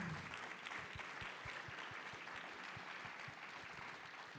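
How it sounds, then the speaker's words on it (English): An audience at a film editors' conference panel session applauds steadily, a dense wash of clapping held at an even level throughout, fairly distant and without talk. "Let's give a round of applause to all of the previous panelists."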